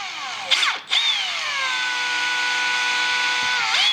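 A power drill whines steadily at close range, dipping briefly near the start as it bites into the wood of a bass guitar, then running on at an even pitch.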